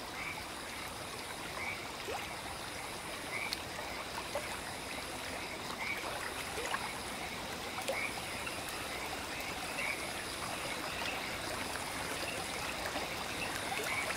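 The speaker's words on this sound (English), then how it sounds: "he could hear the background sound of nature, crickets, and the waterfall nearby" Quiet nature ambience of steady insect and frog chirping with the soft wash of a nearby waterfall, faint and continuous, with no talking.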